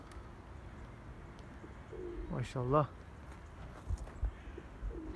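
A pigeon coos softly a few times amid light outdoor background noise, with a brief spoken word nearby.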